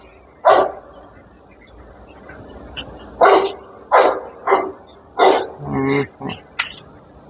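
Neighbours' dogs barking: about nine sharp barks in irregular bursts, some singly and some in quick pairs, moderately loud and a short distance away, with quiet background noise between them.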